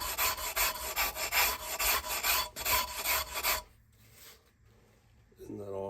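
A trim brush scrubs dirt from the live edge of a walnut cutting board in quick, rhythmic rasping strokes that run for about three and a half seconds and then stop. A faint voice follows.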